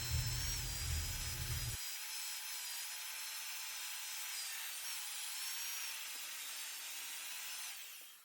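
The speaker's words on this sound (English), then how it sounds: "I'm just using a wire brush to remove it" Wire brush scrubbing Anchorseal off a wooden bowl blank being prepared for an epoxy repair, a steady close scraping rasp that runs continuously with no pauses, loud throughout.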